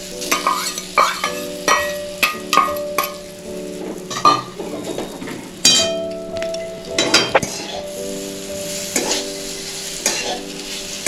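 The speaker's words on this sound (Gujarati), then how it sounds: "બધું મિક્સ થઈ જાય ત્યાં સુધી એને હલાવી લઈએ આપણે।" Roasted coconut and mawa stirred in a pan over a low flame, heard as repeated close scraping strokes with clinks of the spoon against the pan and a soft sizzle, no talk.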